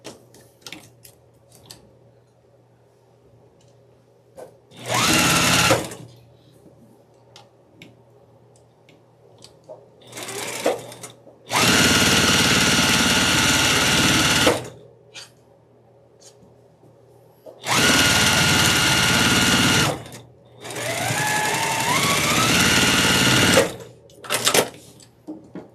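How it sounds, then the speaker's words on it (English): Sewing machine stitching a quarter-inch seam on a traditional quilt block, heard in several loud, steady bursts of rapid mechanical whirring separated by quiet pauses, close up with no talking. "we're going to take this to our sewing machine and we're going to just sew this with a 1/4 inch seam allowance"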